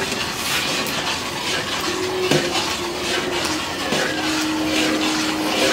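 Gram flour mixture for ghee Mysore Pak being poured into a pan, a steady hissing, sizzling wash with faint metallic clinks and scrapes, close and continuous without talk.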